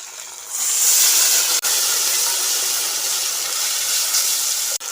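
Loud, steady hissing sizzle as water hits garlic and ginger paste frying in a pan, swelling up quickly, briefly cutting out near the middle and holding strong to the end with no talk.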